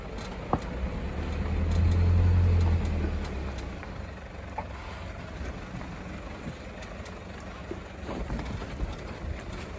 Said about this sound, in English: Got a vehicle coming down, boys.